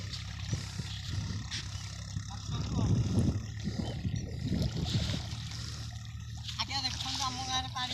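Fast, swollen flood water of the Mahanadi river rushes past a village riverbank as a steady broadband roar, with a voice speaking over it throughout.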